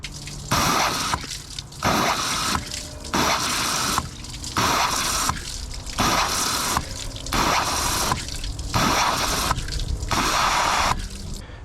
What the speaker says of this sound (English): So all the lines are flowing nice and clean.